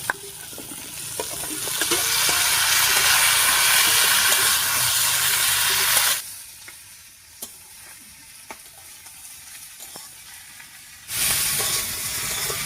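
Mixed vegetables stir-frying with already-fried potatoes in a pan, a loud close hiss and crackle for several seconds that drops to quiet clinks of a spatula before the sizzle surges again.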